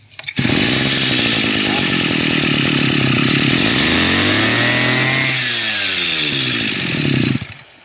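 A small Japanese pressure washer engine runs under test, a loud buzzing two-stroke-like drone that starts abruptly, holds steady, dips and climbs in pitch as it is throttled, then cuts off near eight seconds.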